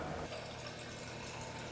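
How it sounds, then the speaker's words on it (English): Filtered water pours steadily into a clear neti pot with an 8-ounce marker, a continuous close splashing fill that carries on without pause. "gotta fill it up with some filtered water, and you need 8 ounces"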